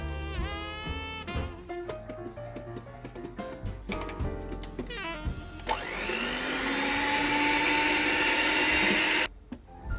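An electric mixer whips cream with added curd, its motor whirring and shifting pitch as the beaters clatter against the bowl. The whine steadies into a sustained drone, then cuts off near the end.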